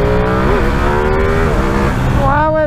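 A Ducati Streetfighter V2 motorcycle revs hard up through the gears for a wheelie, a loud close engine note climbing and shifting with steady rushing road noise throughout.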